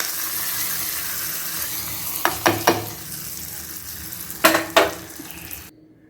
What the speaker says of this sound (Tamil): கொஞ்சமாக பெருங்காயத்தூள், கருவேப்பிலை போட்டு இப்போ நம்ம சட்டியில் கொட்டி கொடுத்தோம்